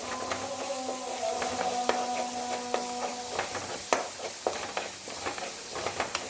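Dried red chillies with garlic crackle and sizzle in hot oil while being stirred, a steady soft frying hiss dotted with irregular small pops and scrapes, fairly quiet and close.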